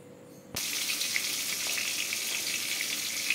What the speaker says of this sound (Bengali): আমি সর্ষে ইলিশ করবো বলে আমি একটু হালকাই ভাজবো।